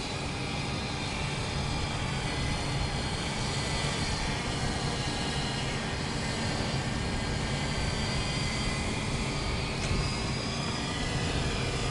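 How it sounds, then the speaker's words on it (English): A quadcopter drone, a 3DR Solo, flies forward with a steady, continuous whirring drone of motors and rotors, loud and unbroken throughout, with no voices. "Drone throw. All right, go ahead and fly forward."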